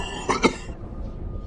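General Grievous coughing in Star Wars: Revenge of the Sith: two quick harsh, raspy coughs in a row, close and loud, followed by a low background rumble.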